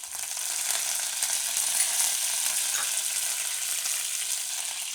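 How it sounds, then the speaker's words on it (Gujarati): Green chilies and curry leaves sizzle in hot oil, making a loud, dense, continuous hiss that holds steady for the whole stretch. "તેલ આપણું ગરમ થઈ ગયું છે, એમાં આપણે નાખીશું મરચાં"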